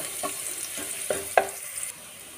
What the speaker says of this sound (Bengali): তেলটা আমার গরম হয়ে গেছে, এরপরে এর মধ্যে দিয়ে দেবো আমি রসুন কুচিগুলো, আদা কুচি। এটা অল্প একটু নেড়ে